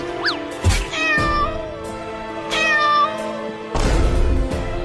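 A cartoon cat meows loudly and close up, with several drawn-out, wavering cries and a final harsher yowl, between brief gaps of quieter sound.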